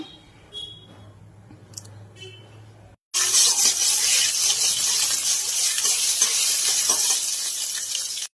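After a quiet stretch of kitchen clatter, refined white oil hits a hot pan and bursts into loud, steady sizzling that holds at full strength for several seconds before cutting off.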